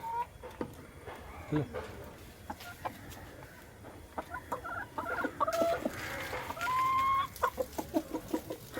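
Several native country chickens cluck and chatter close by in irregular bursts around a coop, with a voice speaking intermittently among them.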